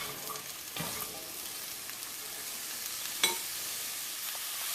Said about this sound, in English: You can hear that lovely sizzle from the bottom of that pot.